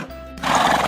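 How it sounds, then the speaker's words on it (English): A horse gives a single short neigh, loud and close, rising into a bright whinny after a brief, quieter lead-in. "Let's neigh like a horse."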